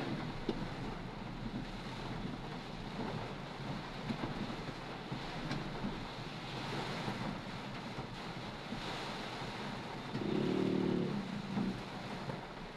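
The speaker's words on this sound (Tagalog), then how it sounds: "medyo lumalakas na ulan at saka hangin" Constant roaring wind and rain wash of a strengthening storm in Muntinlupa, Philippines, fairly faint and steady, with gusty swells and no voices.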